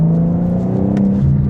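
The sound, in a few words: BMW M4 Competition xDrive accelerating hard in 4th gear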